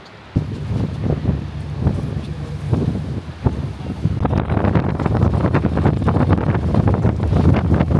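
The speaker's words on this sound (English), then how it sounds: "It is so windy. I feel myself being blown away." Strong wind buffets the microphone in a steady, loud roar on a hiking track in New Zealand, gusting harder partway through, with a faint voice briefly beneath it.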